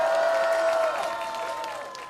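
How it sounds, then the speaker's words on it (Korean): A crowd at a political campaign rally in Paju, South Korea applauds and cheers in a short swell that gradually tapers off, with a faint tone ringing over the clapping. "기자분들한테도 박수 한번 해주세요."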